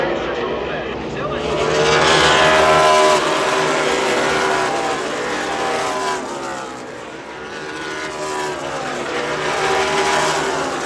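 NASCAR Xfinity race cars roar past at COTA turn 12, engines swelling loudly as they accelerate through the corner, then fading and building again, with a commentator talking over the noise.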